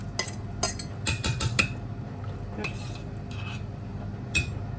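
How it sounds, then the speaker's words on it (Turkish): Spicy sauce poured into a pot of soup and stirred in, with sharp metal spoon clinks against the pot in a quick burst, then quieter scraping and one last clink over a low background hum. "Hemen çorbama döküyorum. Çorbayla birleştiriyoruz."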